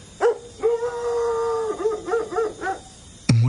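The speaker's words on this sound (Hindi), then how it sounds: "सर्दी में कुकुआते किसी कुत्ते की आवाज आई" In the cold, a dog whimpers and howls close by: a long drawn-out whine, then a string of short wavering yips, ending in an abrupt sharp burst, eerie and alone.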